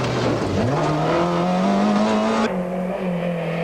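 A 1995 Toyota rally car on a forest stage drones past with a steady, loud engine note that climbs in pitch, then drops after a gear change.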